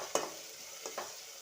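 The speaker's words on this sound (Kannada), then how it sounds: "ಟೊಮಟೊ ಆ್ಯಡ್ ಮಾಡಿ ಮಿಕ್ಸ್ ಮಾಡಿ ಚೆನ್ನಾಗಿ." Tomato is stirred and cooked in a pan for upma: a soft sizzle in the background with a few distinct scraping stir strokes, close and fairly quiet, with no talking.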